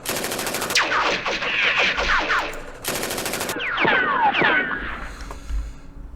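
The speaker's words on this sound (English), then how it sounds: "Fire with our machine gun." A machine gun firing in a Vietnam war strategy game set in the Battle of Hue, two loud sustained bursts of rapid fire, each trailing off into whistling ricochets and debris.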